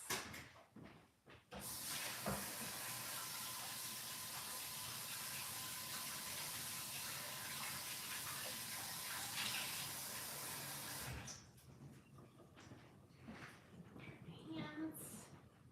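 Tap water runs steadily while hands are washed partway through making cookie dough at home, a broad continuous rush lasting about nine seconds before cutting off, followed by quieter kitchen handling sounds.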